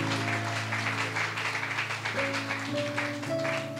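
A church congregation applauds in a steady, continuous crackle of clapping. Sustained keyboard chords play underneath, shifting pitch a few times.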